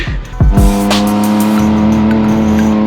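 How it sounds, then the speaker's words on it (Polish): A Dakar Rally car on a quick test drive revs loudly and steadily close by, its engine holding a strong droning tone with a brief gear change early on. "Jeszcze tradycyjna ostatnia przejażdżka, żeby wiedzieć, że oddajemy auto w pełni sprawne."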